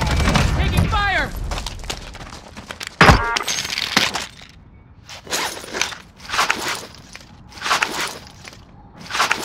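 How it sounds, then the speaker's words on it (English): Gunfire in Call of Duty Warzone comes as sharp cracks and short bursts, loud near the start and then repeating in separated clusters, with speech and movement sounds around them. "Taking fire!"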